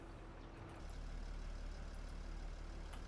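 A 200 hp tractor engine in Farming Simulator 25 rumbles low and steady throughout, settling into a constant idle-like drone after a slight shift early on.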